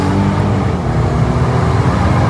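A 2021 Mercedes-Benz E350 sedan accelerates hard, its engine and road noise a loud, sustained roar heard from inside the car, with no talking.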